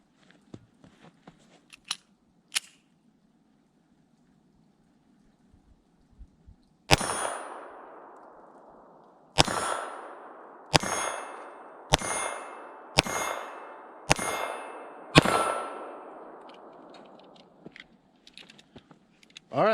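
Seven sharp gunshots from a Kel-Tec P32 pistol firing .32 ACP full-metal-jacket rounds at targets about 7 yards away, loud and evenly spaced, each followed by a short decaying ring, with quiet before the string.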